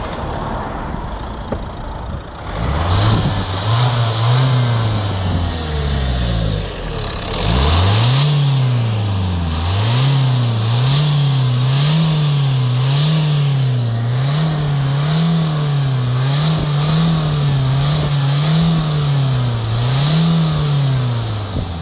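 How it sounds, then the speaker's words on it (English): A Nissan Qashqai engine with exhaust pressure sensor and preheating faults cranks and catches, stalls, then starts again and settles into rhythmic revving that rises and falls repeatedly, close and loud. "I'm going to start the engine up"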